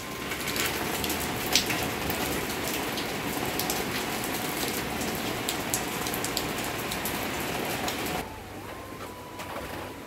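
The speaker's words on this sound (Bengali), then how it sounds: "আবার বৃষ্টি হতেছে।" Steady rain pours down close by, a dense hiss of drops on surfaces that runs for about eight seconds before dropping to a quieter patter.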